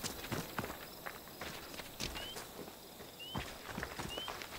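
Footsteps from a character walking in the video game Assassin's Creed Odyssey, an even series of soft thuds paced about twice a second, heard at moderate level with no talk over them.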